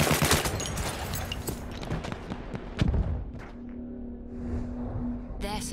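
Machine gun fire in Battlefield 1, a burst of rapid shots at the start that thins into scattered, distant shots over a low steady drone, with a voice talking through it.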